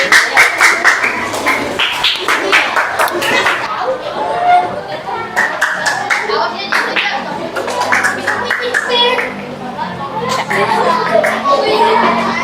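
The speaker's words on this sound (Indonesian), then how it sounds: "Oke, tepuk tangan untuk kelompok 3." Classroom of fifth-grade students applauding a group, a busy patter of many hands clapping close by, mixed with children's chatter and voices throughout.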